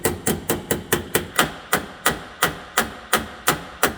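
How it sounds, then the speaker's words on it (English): A hammer strikes against a dolly to knock dents out of a DeLorean's stainless steel quarter panel, roughly four sharp metallic blows per second in a steady, even rhythm, close and loud. "I'll be able to pound these out a little bit more."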